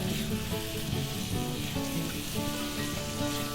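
Bottle gourd poppy seed curry dressed with raw mustard oil is stirred in a pan, giving a steady close sizzling and frying hiss with soft scraping, continuous for a few seconds with no talk.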